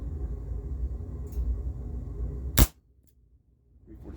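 One shot from a Dan Wesson 715 CO2 air revolver, a sharp close pop standing out after steady low background rumble, followed by near silence.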